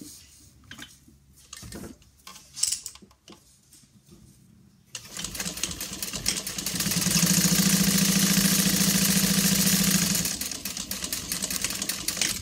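Sewing machine top stitching across the top of a handbag, a few quiet handling noises first, then a steady close whir running for several seconds before slowing slightly.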